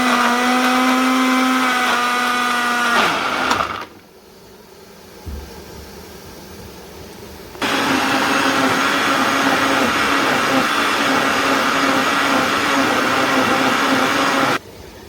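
An electric blender grinding ice with Sprite for mango slush, a loud, high motor whine that cuts out for a few seconds, then starts again and runs steadily before stopping.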